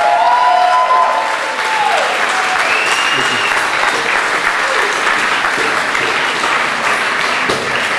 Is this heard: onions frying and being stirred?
no